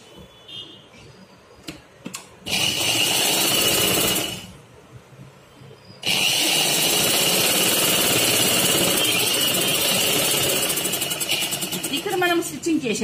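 Sewing machine stitching a square-neck blouse with piping cloth, loud close whirring runs of rapid stitching, a short burst and then a long continuous run after a pause, with a few clicks between.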